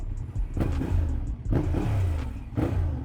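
A motorcycle with a stock exhaust revs in repeated surges, deep and rumbling, rising and falling close by with city traffic noise around.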